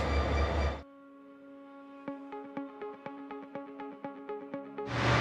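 Inside a locomotive on the Royal Gorge Route, a steady engine hum with rhythmic clicking and clanking of wheels over rail joints, bracketed by louder rushing noise.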